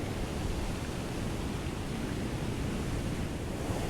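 Strong coastal wind during Storm Otto at Cleveleys near Blackpool, with surf and sea foam nearby, roars as a steady, dense broadband rush across the whole stretch, buffeting the microphone with no voices heard.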